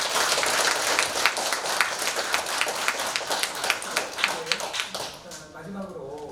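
Audience at a Korean lecture on early American women missionaries claps steadily for several seconds, dense and close, thinning out toward the end.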